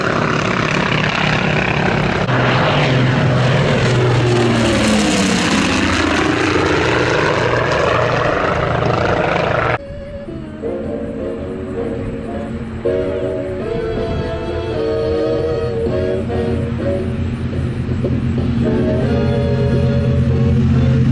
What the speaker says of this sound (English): listen to those engines. Here comes that C-45 again.